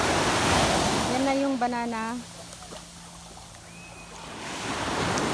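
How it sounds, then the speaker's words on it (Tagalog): Strong ocean surf at Saud beach in Pagudpud, Ilocos Norte, a broad, constant roar that surges and eases, loud and close, while someone talks over it. "Ay, ang lalakas ng alon, guys."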